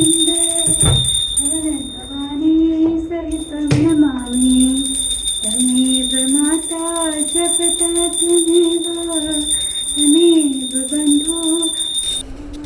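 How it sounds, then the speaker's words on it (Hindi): A washing machine buzzer signals the end of its cycle with a steady, high electronic tone that runs almost unbroken for about twelve seconds beneath a voice chanting a devotional prayer. "उधर मशीन का बोल चुका है बज़र"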